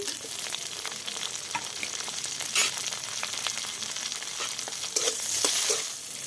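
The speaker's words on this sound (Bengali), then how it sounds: "কাঁচা লঙ্কা 3-4টে দিয়ে দিলাম সেটা, আর দিয়ে দিলাম টমেটো।" Green chillies and tomatoes fry in a pan in a village kitchen, a steady close crackling sizzle with scattered pops and the occasional scrape of stirring, with no voices.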